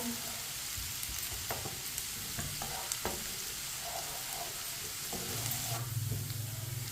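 Onions browning in a pan while a spoon stirs them for masoor dal tadka, with a continuous close sizzle and frying crackle broken by light scraping and clinking of the spoon against the pan.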